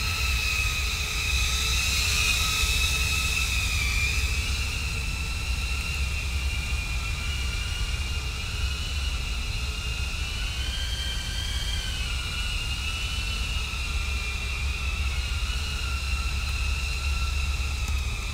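A Diatone Taycan 25 ducted cinewhoop drone on a 4S 850 battery, carrying a naked GoPro, holds a steady high-pitched propeller whine with wavering tones, continuous and close for the whole stretch.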